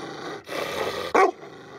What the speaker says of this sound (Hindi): Tibetan mastiff.